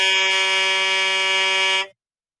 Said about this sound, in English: That's kind of a sucky truck horn, but Rod?